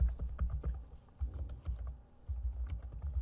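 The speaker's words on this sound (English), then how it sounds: "In the search box you type in network" Close, crisp clicks of a computer keyboard as a word is typed into a search box, arriving in two quick bursts separated by a short pause.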